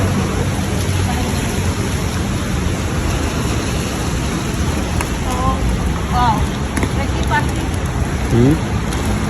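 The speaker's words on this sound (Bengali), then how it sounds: "বাইরে দুপুরে যে বৃষ্টি আসছে" Steady rain hisses outside, a dense continuous wash of noise, with faint voices and occasional tonal sounds barely emerging from it.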